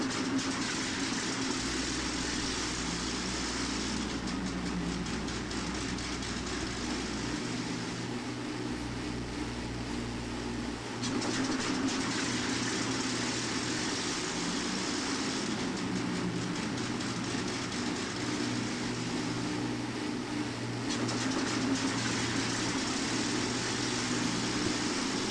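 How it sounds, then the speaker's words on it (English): Four engines of a Lancaster III bomber start one after another and settle into a steady, droning idle in the Aces High flight game, loud and continuous, with low rumble shifting as each engine joins. "I think that was the 4th engine that started"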